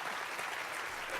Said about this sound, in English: Let's give the senator another round of applause.